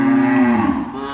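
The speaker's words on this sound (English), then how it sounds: "You can totally hear the cows talking away over there." Cattle low loudly and close by, a single long moo that falls in pitch after they return from grazing in a Maasai setting.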